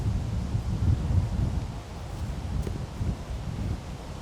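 Wind blowing across a disc golf course during a tournament round, a steady low rumbling gust buffeting the microphone throughout, with no voices.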